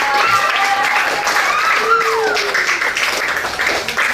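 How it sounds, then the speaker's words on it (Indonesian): Students in a classroom applaud together, a loud, continuous burst of clapping close by, with a few voices rising over it. "Kasih tepuk tangan dong semuanya."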